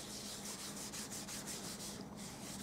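An embossing buddy powder tool is rubbed over grey cardstock in quick, regular back-and-forth strokes, a close, dry scuffing rhythm with no voices.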